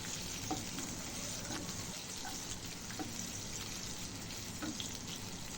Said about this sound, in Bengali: পেঁয়াজটাকে একটু নেড়ে চেড়ে একটু লাল লাল করে ভেজে নেব